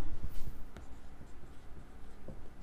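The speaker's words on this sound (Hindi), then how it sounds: "चलो लिखते हैं यहाँ पे हम लिखेंगे" Steady scratching of a pen writing a maths formula by hand on paper during a lesson on shares and market value, close and continuous.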